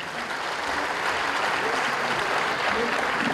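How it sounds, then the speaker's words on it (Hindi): An auditorium audience at an album launch and award event claps in a dense, sustained burst, loud and even throughout the short stretch with no talk over it. "एक जोरदार तालियां।"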